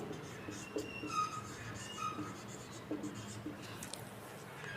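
A pen or chalk writes during a Class 10 maths lesson, with soft scratching strokes in short bursts, close but faint over a steady background hum.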